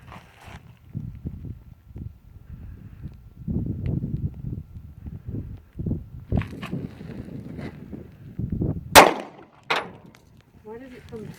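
Hornady Critical Defense 9mm rounds are fired at a refrigerator outdoors, giving a couple of sharp gunshot cracks late in the sequence, with rustling, footsteps and low talk before them.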